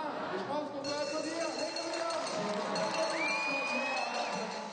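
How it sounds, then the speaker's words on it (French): A crowd cheers and claps loudly as a timed round of a finalists' competition ends, a dense steady roar with whoops and voices mixed in throughout. "je pense qu'on peut applaudir"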